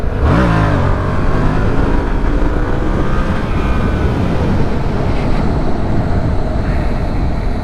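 A dirt bike engine drones steadily at close range while riding in cold weather, rising in a revving whine at the start, with heavy wind rush over the microphone throughout.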